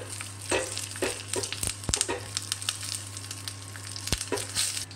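Dried chillies and spices sizzle and crackle in hot oil for a dahi fish tadka, a close, steady fry with sharp pops and stirring clatter and a low hum underneath.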